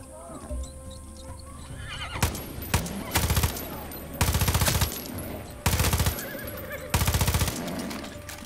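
Gunfire in Far Cry 6: several loud bursts of automatic fire rattle out in separate volleys, with a horse neighing and hooves clopping in between and someone talking at times.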